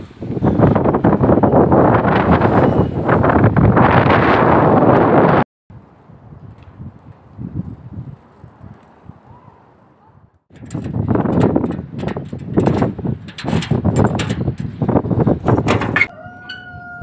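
On a windy day, gusts slam into the microphone with loud, heavy rumbling buffeting, drop away briefly to a quieter stretch, then return just as hard, with a voice faintly audible between gusts.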